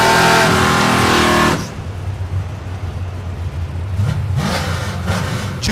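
A 2004 Mustang drag car doing a burnout at a drag strip, heard as a loud, harsh engine roar that cuts off abruptly, then a lower idling rumble before the engine revs up again.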